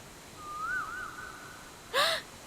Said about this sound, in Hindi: ये तो कोयल की आवाज है। इसकी आवाज कितनी रोमांटिक है ना।